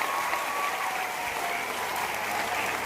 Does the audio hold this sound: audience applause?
yes